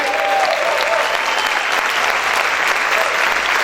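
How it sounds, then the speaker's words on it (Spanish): A church audience applauds loudly and continuously, the thick wash of clapping holding steady from start to finish with faint voices mixed in. "Aplaudir fuerte al Rey."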